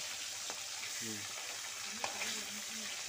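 Tomato fries in a pan for chicken curry, a soft continuous sizzle with occasional stirring scrapes and faint background tones, moderately quiet and without speech.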